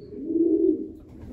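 A racing pigeon in a loft gives a single low, soft coo, close and alone.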